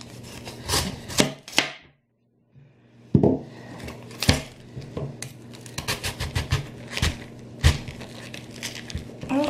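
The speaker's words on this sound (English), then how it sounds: "So I'm just going to cut the end off." A knife chopping the end off a cabbage: a run of sharp, close thuds on a cutting board, a short quiet gap, then more rapid irregular cuts and crunches.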